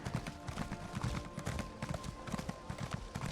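Horse hooves clip-clop steadily in Elder Scrolls Online as a pony is ridden, a brisk even rhythm of soft thuds under faint game ambience.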